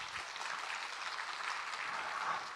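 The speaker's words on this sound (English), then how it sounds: "A big round of applause, please." Sustained applause from an audience at a company's anniversary celebration, an even wash of many hands clapping at steady loudness without breaks.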